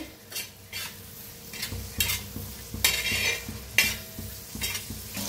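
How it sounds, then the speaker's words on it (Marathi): A spoon repeatedly scrapes and stirs onion and tomato frying in a pan for an egg dish, rhythmic clattering strokes over a soft steady sizzle, close up with no talking. "त्याच्यातच टाकूया टमाटो, तर करून भाजून घेऊया टमाटोला बी कांद्याला बी"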